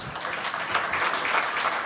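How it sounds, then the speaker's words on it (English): Warm round of applause from a live audience welcoming a guest on stage, the president and CEO of the New York Racing Association, steady dense clapping throughout. "thank you for that nice round of applause"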